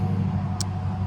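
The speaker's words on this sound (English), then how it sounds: "Sorry for the traffic." Road traffic passing near a rural homestead, a steady low vehicle rumble lasting the whole moment with a brief hiss partway through, no voices.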